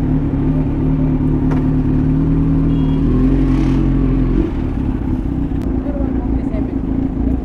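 Kawasaki Z900 SE big bike engine running at a fuel station, a steady loud rumbling idle with a slight shift in tone partway through, close by and continuous.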